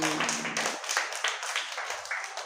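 Group of children clapping for a horse character in a kids' story, a quick burst of many overlapping claps fading into scattered taps, close and lively.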